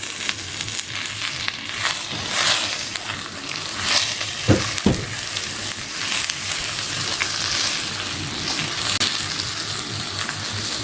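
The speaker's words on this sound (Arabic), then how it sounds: "هنحمر بقى الشعريه بتاعتنا. طبعا الشعريه بتاعتنا هي اتحمرت. هننزل بقى بالرز مغسلينه مغسلينه." Vermicelli and washed rice fry in a pot with a loud, continuous sizzle, mixed with stirring scrapes and a couple of sharp knocks near the middle.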